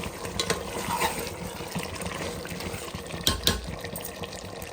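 Water poured into a pot for green chilli and mint chicken pulao, a steady close splashing and trickling that runs the whole time, with a couple of brief louder splashes near the end and no talk.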